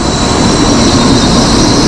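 A Shinkansen bullet train runs between Kyoto and Hiroshima, a loud, steady rushing roar with a high whine, heard continuously from inside the carriage.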